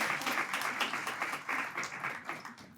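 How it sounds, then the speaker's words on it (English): Audience at a community network meeting giving a round of applause, dense continuous clapping throughout, moderately loud and fairly close. "Let's give Mia one more round of applause."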